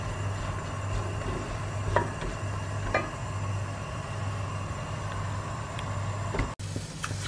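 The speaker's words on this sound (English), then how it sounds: "I've got 150 grams of sliced chestnut mushrooms here that I am just going to cook off on a very high heat just to caramelise them" Sliced chestnut mushrooms fry in a pan over very high heat, giving a steady low sizzle with a constant hum beneath and a few faint clicks of stirring, moderately close and without talk.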